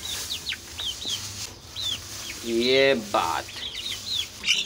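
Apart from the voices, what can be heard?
chickens clucking, white rooster and brown hen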